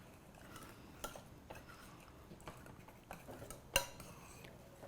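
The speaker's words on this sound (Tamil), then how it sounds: "இப்படி நல்லா இப்படி மசிச்சு விடுங்க." Cooked gravy ingredients being mashed in a pot with a masher, soft squelching broken by a few sharp metallic knocks against the pot, close and fairly quiet.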